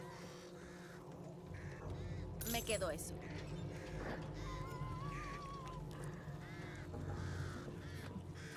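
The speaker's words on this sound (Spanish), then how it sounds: "Pájaros de ahí. ¿Cuántas enfermedades portan las aves?" Crows caw repeatedly at a moderate distance amid the zombie shooter video game Back 4 Blood, with game ambience and bursts of effects underneath while a player talks.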